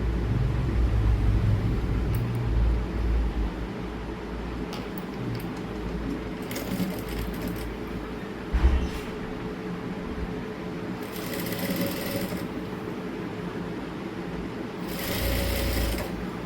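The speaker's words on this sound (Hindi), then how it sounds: "अब जो ये वाला कपड़ा, इसको फोल्ड करके इसके ऊपर वापस से सिलाई लगाएंगे।" A sewing machine stitching over folded cloth, a steady mechanical whir running continuously and close, with brief faster bursts of needle clatter along the way.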